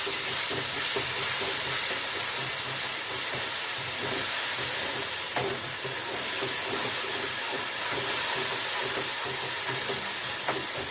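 Spices sizzle steadily in a hot pan while being sautéed for a Bengali katla fish curry with ridge gourd. The hiss is constant and fairly loud, with faint scraping taps from stirring.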